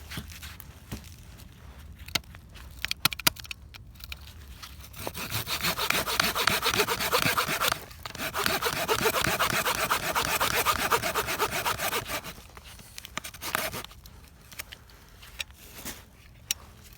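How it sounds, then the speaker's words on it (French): An old hand saw cuts through wood in rasping back-and-forth strokes, a few scattered knocks and scrapes first, then a long run of steady rhythmic sawing, a brief pause, more strokes, and a trailing off into sparse taps, close and clear. "Une scie qui est un peu vieille mais qui a toujours fait le travail."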